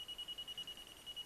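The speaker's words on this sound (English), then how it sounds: "it's doing the full speed beep beep beep beep beep noise" An nRF24L01 radio receiver beeps rapidly at its full packet rate: a faint, high, steady electronic tone pulsing about ten times a second over a soft background hiss.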